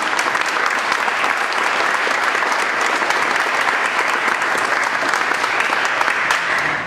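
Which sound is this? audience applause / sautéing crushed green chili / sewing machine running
audience applause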